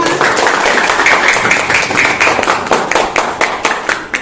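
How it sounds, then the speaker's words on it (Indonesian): A class claps for a student group's presentation, loud dense clapping from many hands close by, tapering into scattered claps toward the end. "tepuk tangan untuk kelompok 5"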